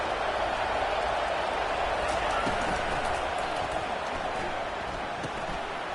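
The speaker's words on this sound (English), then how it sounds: "this crowd coming to life here, trying to help the defense get a stop with the offense pinned back" A stadium crowd in the College Football 25 video game, Hawaii versus Miami, fills the air with a steady, dense roar of cheering and noise, broad and sustained without pauses.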